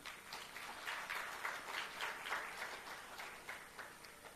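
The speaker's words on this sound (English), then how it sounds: "A second round of applause for them." Audience applause at a meeting of young parliamentarians, a soft, steady patter of clapping heard from some distance, fairly faint and with no voices over it.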